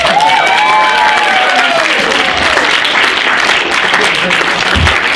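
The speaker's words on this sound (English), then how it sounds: "I think Mum and Dad deserve a massive round of applause" Wedding guests give a big round of applause and cheers for the parents, loud, continuous clapping with whoops and shouts, while a sustained tonal sound rises and falls over the first two seconds.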